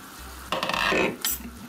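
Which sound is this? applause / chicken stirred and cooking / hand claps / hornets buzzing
chicken stirred and cooking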